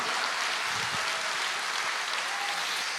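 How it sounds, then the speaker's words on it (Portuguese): Church congregation applauding together during a worship service, a steady broadband wash of many hands clapping that stays even and full for the whole stretch, with no voice standing out. "Aplauda o Senhor"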